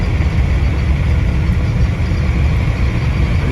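A 1955 Buick Special Riviera cruises down the road, its engine giving a steady low rumble mixed with road and wind noise, constant and fairly loud with no voices.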